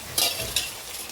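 Raw prawns fry in a pan with onion, ginger and garlic paste, giving a soft, steady sizzle broken by two quick stirring scrapes.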